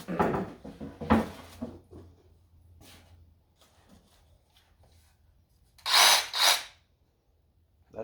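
A new DeWalt 20V jigsaw buzzes in short bursts against a leftover piece of butcher block, close up with quiet gaps between, and a louder double burst near the end.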